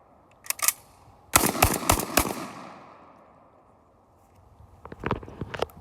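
A Panzer Arms BP-12 bullpup shotgun fires outdoors in sharp, loud blasts: a quick pair, then a rapid string of four or five shots, a lull, and another close cluster, each with a short ringing tail.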